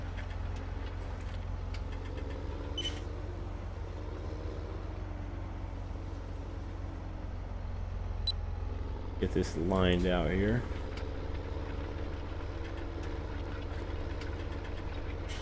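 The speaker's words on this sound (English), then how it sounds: "This tractor has no trouble with this cultivator." Tractor engine in Farming Simulator 17 pulling a cultivator across a field, a steady low droning hum running throughout beneath continuous talking, with a brief louder surge near the end.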